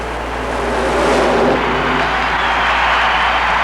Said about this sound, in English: Beautiful run by Melvin Brown. Full throttle to the finish line.